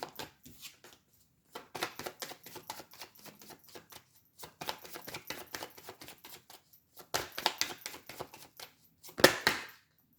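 Oracle cards drawn and handled one after another, a run of soft crisp rustles and slaps in bursts with pauses, ending in a sharper flick, close and fairly quiet with no voices.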